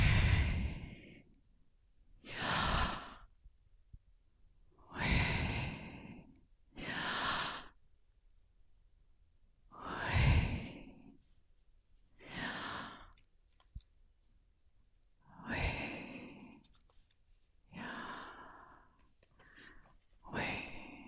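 Slow, deep breaths drawn in and let out, about nine in a steady rhythm, close and clear with quiet pauses between.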